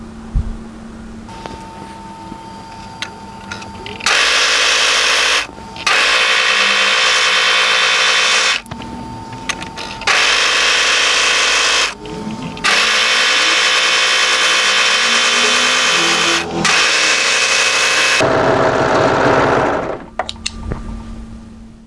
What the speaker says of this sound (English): we're going to overlock exactly the same seams